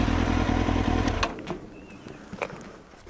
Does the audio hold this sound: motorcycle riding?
yes